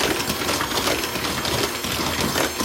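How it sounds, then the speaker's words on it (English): An electric mixer blends a cup of butter for oatmeal cookie dough, giving a close, steady, busy whirring and beating sound with no talking. "I'm going to go ahead and blend this together a bit with my mixer"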